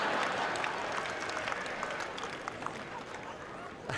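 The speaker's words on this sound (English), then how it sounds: "Well, this always gets a little bit of applause." Tennis crowd at the 1997 Stella Artois final clapping in a steady, fairly loud wash of applause that runs through the whole moment, thinning slightly toward the end.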